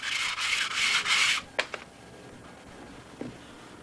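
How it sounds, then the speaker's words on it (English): Hand sanding of a part resting on a flat table: about a second and a half of steady, close, rhythmic rubbing strokes, followed by a couple of brief scraping touches and a faint knock in otherwise quiet surroundings. "I would be sanding each side."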